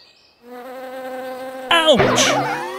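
A bee buzzing in a children's story about a king and a bee, a steady close insect drone that rises into a louder, wavering whine near the end.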